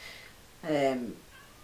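A single drawn-out cat meow, moderately loud, rising then falling, against quiet background noise.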